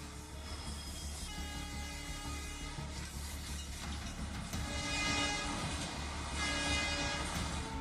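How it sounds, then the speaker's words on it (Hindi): Oxygen Express train running on rails, a steady loud rumble of wagons rolling past with a sustained horn tone and growing rattle, no voices. "रेल की पटरियों पर दौड़ रही ये ऑक्सीजन एक्सप्रेस"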